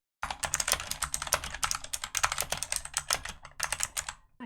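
Rapid typing on a computer keyboard, with dense, irregular bursts of close clicking keystrokes and a few short pauses. No voices.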